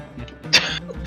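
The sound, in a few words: imitated coughing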